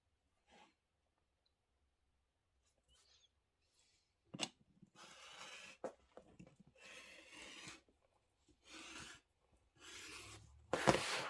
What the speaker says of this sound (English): I'm going to trim that edge off so it's nice and clean.